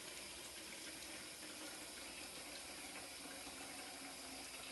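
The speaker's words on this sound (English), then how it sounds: "Nice blazing hot water." Blazing hot water runs steadily from a tap, a constant soft hiss and splash with no voices, fairly quiet throughout.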